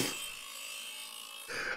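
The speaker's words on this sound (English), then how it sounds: "They've just used power tools for all the sounds in this for some reason." Power tool sound effect from a Windows 3.1 video game, a short grinding buzz that fades and then returns in a brief louder burst at the end.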